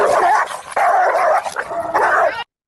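Dogs bark and yip in a loud, busy scuffle, with whimpering and sharp snarling bursts running almost continuously before cutting off abruptly.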